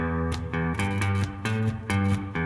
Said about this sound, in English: For right now, I'll just do it on my guitar.